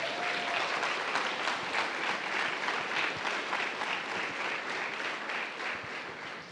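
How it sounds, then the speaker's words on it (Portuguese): A church congregation gives steady, sustained applause during a sermon, a dense wash of many hands clapping that slowly tapers off toward the end. "Você pode dar uma salva de palmas para Jesus?"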